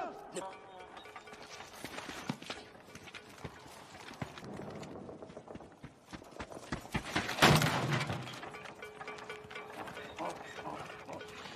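Donkey hooves clip-clop unevenly on a hard surface amid rustling and clattering, with a louder burst partway through; voices speak faintly at times.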